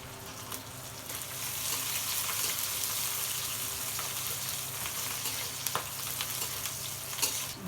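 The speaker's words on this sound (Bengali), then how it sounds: "তেলের উপরে আমি শুকনা মরিচ দিয়ে দিয়েছি, তেজপাতা দিয়ে দেবো পেঁয়াজ, কাঁচামরিচ, রসুন," Dried red chilies, bay leaves, onion, green chilies and garlic crackle and sizzle steadily in hot oil in a pan, a close, continuous frying hiss with faint scattered pops.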